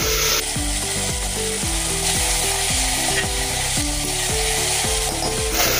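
Chopped tomato and finely cut ginger fry loudly in a pan for pav bhaji, a strong, continuous sizzle close up with a repeating low tonal pattern running underneath throughout.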